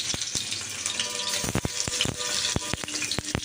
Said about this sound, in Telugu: ఈ ఆయిల్ వేటెక్కిన తర్వాత పన్నీర్ ముక్కలు అనేది వేయించుకుందామండి.